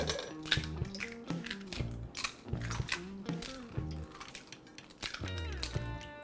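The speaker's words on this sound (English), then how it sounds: "we're going to crack 9 eggs into here" Eggs are cracked one after another into a bowl for a custard, a series of close, sharp taps and shell cracks with some clinking, over a musical background and no talk.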